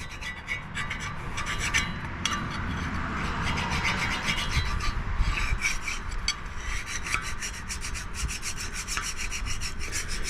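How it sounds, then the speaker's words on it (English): Hand file touching up the edge of a chipper knife, a continuous close rasping of steady back-and-forth strokes with a rhythmic pulse, loud and alone without speech. "if you're just touching them up, I would use a hand file"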